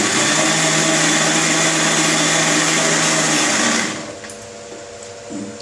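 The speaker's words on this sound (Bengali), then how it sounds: "এবার একটু জল দিয়ে দিয়ে আমি আর মিক্সিটাকে আরেকবার ঘুরিয়ে নেব।" A kitchen mixer grinder whirs loudly as it blends raw mango with water, a steady high motor drone that winds down after about four seconds to a quieter hum, with no talking.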